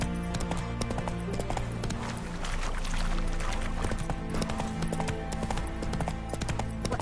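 Hooves of Roach, the horse in The Witcher 3, clip-clop in a quick, steady trot throughout, loud and close, over a layered game soundscape.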